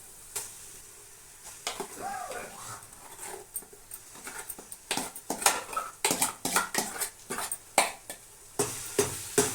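Fried onion paste tipped into a hot pan and stirred, with repeated clinks and scrapes of a spoon against the metal and a soft sizzle underneath, the knocks growing busier and sharper toward the end.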